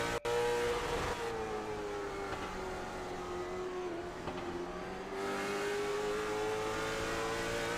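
Late model stock cars race at Langley Speedway, engines roaring steadily up close as one car's tone bends down and back up while the pack runs past, with a brief sharp click near the start.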